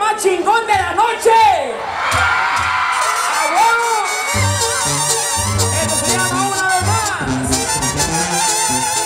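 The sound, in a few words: crowd shouting and cheering at a banda concert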